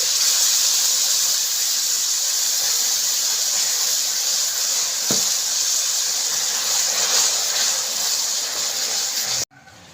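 Coconut milk goes into a pan of caramelizing saba bananas, setting off a loud, steady sizzling hiss close by that runs for nearly ten seconds before cutting off abruptly.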